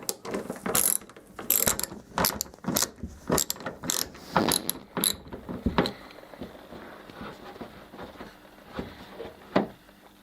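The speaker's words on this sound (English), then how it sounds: "Remove these two T20 torque screws." A ratchet clicking rapidly in short bursts while removing T20 Torx screws from a Ford Focus tailgate, close and fairly loud with brief pauses between strokes.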